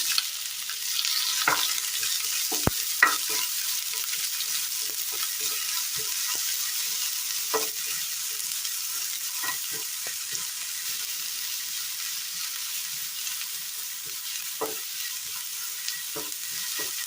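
Sliced onions sizzle in hot oil with spluttered mustard seeds for a Kerala ash gourd curry, a steady close frying hiss broken by scattered clicks and scrapes of stirring, with no talking.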